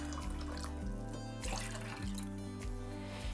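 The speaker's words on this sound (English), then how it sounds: "And then 1 cup of water." Water pours into a container for sweet and sour bread and butter pickle brine. The trickle is faint and close, with small gurgles and drips over a low background hum, and no one speaks.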